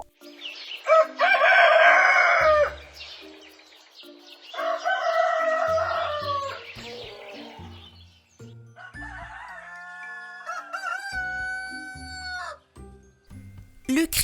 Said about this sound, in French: Le prochain animal est le coq.